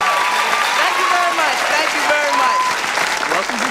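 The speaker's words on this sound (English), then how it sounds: "you'd always hear the crowd cheering in the background when a certain character came on screen" Canned crowd applause from a McDonald's Happy Meal toy applause gun, a dense steady clatter of clapping and cheering held at even loudness throughout, with voices and tonal sounds mixed in over it.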